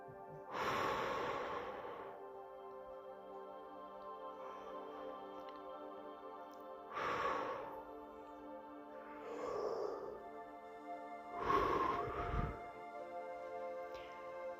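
Slow, deep meditative breaths during a guided meditation, several long airy inhales and exhales spaced a few seconds apart, close and soft over a faint sustained musical drone.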